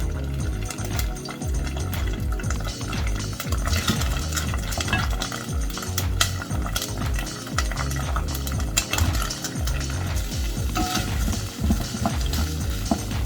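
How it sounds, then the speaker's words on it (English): Onions stirred into hot oil with ginger paste in a pot for koi fish curry: dense, continuous sizzling and scraping up close, with steady stirring rustle and no voices. "we're going to be adding in the onions"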